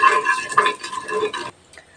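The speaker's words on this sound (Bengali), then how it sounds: "1/4 টিস্পুন হিং অ্যাড করে নেড়ে দিচ্ছি।" Spices and asafoetida being stirred in a pan for stuffed bitter gourd, a busy scraping and sizzling clatter of spoon on metal for about a second and a half, then dropping to near silence.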